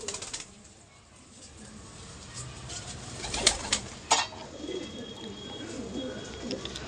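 Pigeons coo steadily nearby while wings flap and a few sharp bursts of corn kernels scatter down for the flock, with soft rustling between.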